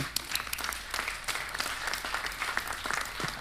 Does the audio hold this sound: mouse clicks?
no